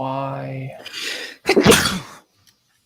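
A single sharp sneeze bursts out in a room during work on structural file, loud and close, preceded by a short spoken word and followed by a moment of quiet.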